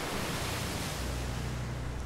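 Ocean waves washing onto a narrow strip of beach against rocks, a continuous broadband roar of surf with wind, steady and close.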